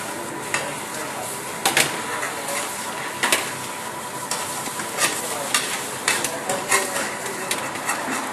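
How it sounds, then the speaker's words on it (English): Indian takeaway-style curry sizzles steadily in a frying pan as a spoon stirs it, with repeated scraping clacks against the pan over the constant frying hiss, close up. "So I'm just going to do a quick stir."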